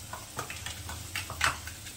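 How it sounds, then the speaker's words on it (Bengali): A spice paste of garlic, chilli, cumin and turmeric is stirred in a cooking pan, giving soft irregular scraping and light taps over a faint low hum. "আমি একটু নাড়া দিচ্ছি।"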